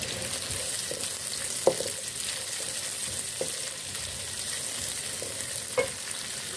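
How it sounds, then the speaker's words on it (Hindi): Steady sizzle of onions frying in a pan after mustard seeds, for a ridge gourd curry, with a few soft clinks of a spoon stirring, close and continuous. "अब इसमें हम प्याज ऐड करेंगे और इसको हम फ्राई कर लेंगे।"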